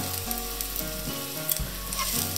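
Garlic clove frying in a small amount of oil in a pot, a steady close hiss and crackle of sizzling with no talk.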